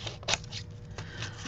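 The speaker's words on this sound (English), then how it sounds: "So let's trim off the bottom of her." Scissors snip through a paper napkin cutout for a mixed media journal: a few crisp, close cuts in quick succession, with no talking.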